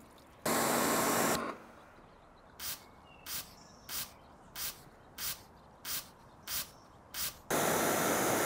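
Glow-Up ceramic spray coating sprayed onto an Audi RS3: a long hissing burst, then a run of nine short regular spritzes from a trigger sprayer, then another long hiss, close and alone.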